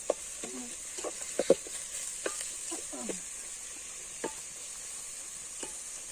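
Onions frying and being stirred in a pan for a picnic dish cooked outdoors in a forest in Konkan, a soft continuous sizzle with scattered light scraping knocks from stirring, no talk.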